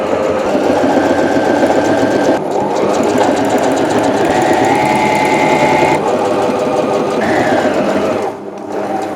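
Sewing machine stitching a pinned seam on a bomber jacket, a loud, close, steady mechanical whir and rapid needle rattle running continuously before slowing and stopping at the end.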